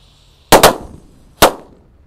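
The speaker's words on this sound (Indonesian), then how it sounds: "mercon kera raja ini, ada 3 sekaligus. Kita nyalakan ngabuburit Ramadan." Three 'kera raja' firecrackers go off during a Ramadan ngabuburit outing: two sharp, loud bangs in quick succession followed by a third blast about a second later, each with a short fading tail.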